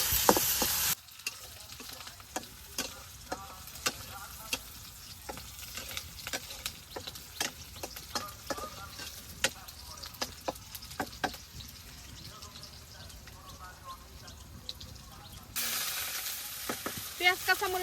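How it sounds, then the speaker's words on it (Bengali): Chopped onion and green chillies frying in a pan, a steady close sizzle punctuated by repeated knocks and scrapes of a stirring spoon, louder at the start and end. "পেঁয়াজ কাঁচামরিচ ভালোভাবে ভেজে নিই"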